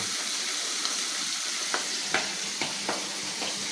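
Fish frying in a pan late at night: a steady, close hiss of sizzling oil with a few sharper crackles and pops scattered through, no voices.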